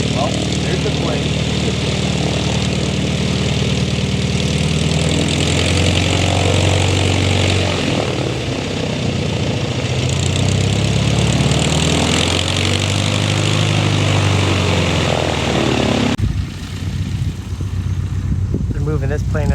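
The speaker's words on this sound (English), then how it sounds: "Well, there's the plane." Propeller engine of a banner-towing airplane droning loudly and steadily up close on the ground, rising and falling slightly, then cutting off near the end.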